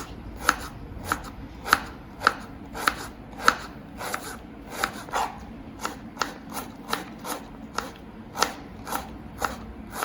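Knife chopping an onion on a board while cooking a quick lunch of tomato rice with curd raita, a steady series of crisp close chops at a regular rhythm, no talking.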